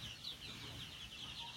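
Chickens in a poultry coop give soft, faint clucks, a quiet high chatter of several birds layered over low background rumble.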